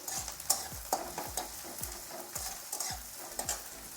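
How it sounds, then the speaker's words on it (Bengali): Coarsely cut onions sizzle lightly in oil in a pan while a spatula stirs them, with sharp scraping strokes and taps about twice a second over a soft continuous frying hiss, close up. "পেঁয়াজটা হালকা করে একটু ভেজে নেব, অত লাল করে ভাজার দরকার নেই।"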